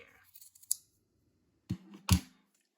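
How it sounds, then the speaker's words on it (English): Fabric scissors snip through a sock, making a few brief close crisp cuts, with a louder pair of snips near the end and no talk. "So you're gonna take your sock, you're going to cut it"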